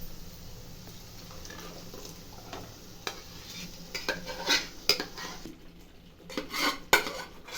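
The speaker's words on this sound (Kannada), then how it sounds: "ಈ ಬಾಣ್ಲಿಗೆ ಹಾಕ್ತಾ ಇದ್ದೀನಿ" Cooked moong dal goes into a hot pan for khichdi and is stirred, with a low sizzle beneath scraping utensil strokes and metal clinks that get busier and louder toward the end.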